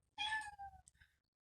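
A pet cat gives one clear, drawn-out meow up close indoors, followed by a short softer chirp, with no talking.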